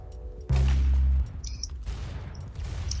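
Gunfire from the Roblox game Arsenal: a short, loud burst of rapid shots, followed by quieter game effects and faint background noise.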